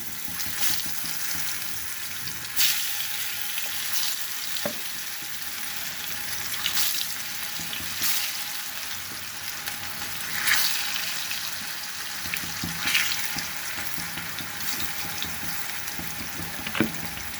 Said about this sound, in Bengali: এখন আমি এক একে কচুগুলো একটু ভেজে নিব